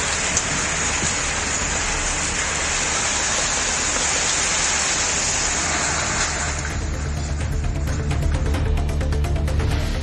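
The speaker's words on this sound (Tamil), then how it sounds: "சிவகங்கை மாவட்டத்தின் பல்வேறு பகுதிகளில் பெய்த மழையால் வெப்பம் தணிந்தது" Steady rain pours down over a district in Tamil Nadu, a dense continuous hiss of drops on surfaces, loud and close, with a rougher patter of heavier drops toward the end and no voices.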